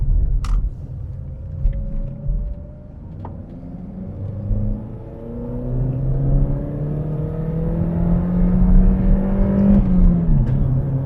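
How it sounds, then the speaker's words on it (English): A Vauxhall Vectra accelerating hard, engine note climbing steadily in pitch through a gear, then rising again, heard from inside the car as a loud continuous drone with road rumble. "it's very difficult to do a smooth gear change in this car for some reason when you're really gunning it"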